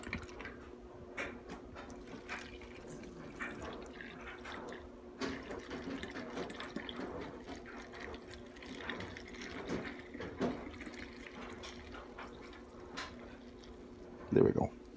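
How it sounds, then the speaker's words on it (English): Liquid, a chlorine dioxide solution, pours into a bottle to top it up, with gurgling and dripping under a low hum, fairly faint, ending in a brief louder clatter. "So I'm going to just top up my bottle."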